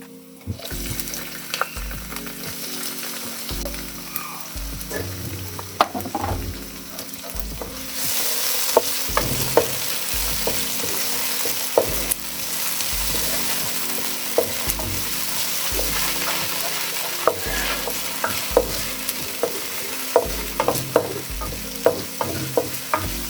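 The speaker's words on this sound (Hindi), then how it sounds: "लहसुन ने ब्राउन कलर लेना शुरू कर दिया तो यहाँ पर अभी हम इसमें टमाटर ऐड करते हैं।" Garlic sizzles and fries in a pan as tomatoes are added for a vegetable samosa filling, steady frying crackle with repeated stirring and scraping, close and alone without talk.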